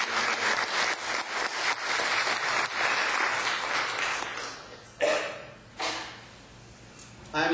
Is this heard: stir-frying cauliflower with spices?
no